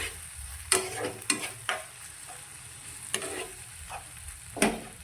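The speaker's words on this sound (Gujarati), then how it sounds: "બધી જ વસ્તુને સારી રીતે મિક્સ કરીશું" A spoon scrapes and clacks against a pan in scattered strokes as vegetables for tomato chutney sizzle steadily beneath, close up with no voices.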